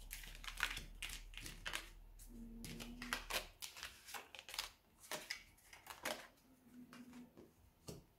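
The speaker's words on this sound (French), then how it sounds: "Il faut ranger un peu les cartes, sinon il va y avoir trop de bazar." Tarot and oracle cards are handled and rearranged on a table, making a quiet run of irregular taps, slides and soft clicks, with no talking.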